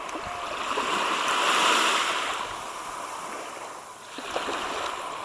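Shallow sea water sloshing around feet paddling at the edge of Swanage beach, with a steady wash of surf and light wind throughout, swelling slightly in the middle and easing near the end, no talking.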